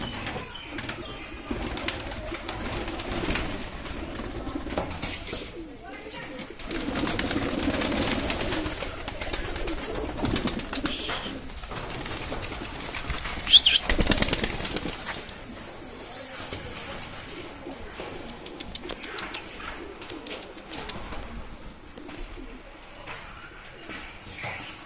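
Pigeons coo softly in an outdoor loft area, with occasional wing flutters as they take off and fly upward; moderately faint, with a voice talking intermittently and background noise.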